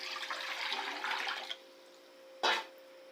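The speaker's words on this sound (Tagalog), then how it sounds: "tubig" Water runs from a kitchen tap while kimchi pasta is being made, a soft steady stream that stops after a moment, followed by a short splash.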